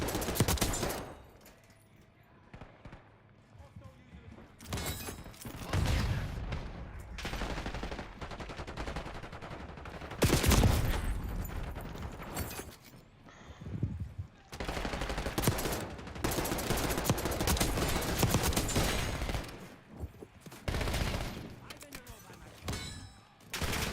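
Bursts of gunfire crackle through a Call of Duty: Black Ops 6 multiplayer match, rapid volleys and scattered shots coming and going at varying loudness over game ambience.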